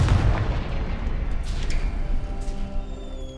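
Confringo fire blast spell in the Hogwarts Legacy video game: a loud, booming explosion that hits at once, then rolls into a rumbling, crackling tail for a few seconds, with no talking.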